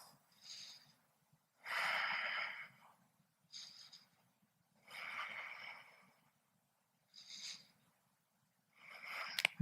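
Slow, deep breathing held during a yoga pose, with several audible inhale and exhale cycles close to the microphone, each a soft breathy rush separated by quiet pauses.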